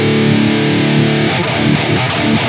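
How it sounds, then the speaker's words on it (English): An electric guitar runs through a Brainworks Tube Screamer overdrive pedal into an amp and plays heavy, chuggy palm-muted distorted riffs. The tone is dense and loud, with no voices. "Let's throw a tube screamer in front of the amp."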